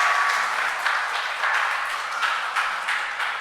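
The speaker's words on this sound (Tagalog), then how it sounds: "Siya nga po malakas na palakpak para sa ating Panginoon." A church congregation claps together in sustained, steady applause during a Christmas-season worship celebration, a dense wash of hand claps with no talk over it.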